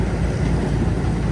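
Steady low engine rumble of a tractor heard from aboard while riding along a mountain road near Poiana Mărului in autumn, a continuous loud drone with no talk.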